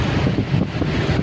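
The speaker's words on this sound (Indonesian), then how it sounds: "Kencang tadi bu, angin bu." Strong wind in Pontianak city buffets the microphone with a loud, continuous rushing roar, gusting unevenly through the short moment.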